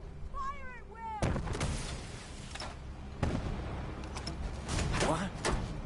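Gunfire in the game Fallout 4: Far Harbor, a burst of loud, sharp shots and booms breaking out after brief shouted speech, repeating irregularly over a noisy battle din.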